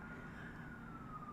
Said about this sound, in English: Which is why you hear sirens in the background